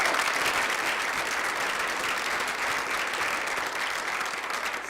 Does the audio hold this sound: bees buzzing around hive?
no